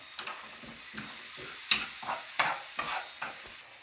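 Tomato tempering for mung dal fries in a pan, a soft steady sizzle broken by intermittent scraping stirs and light clinks of a utensil, close and fairly quiet with no talking.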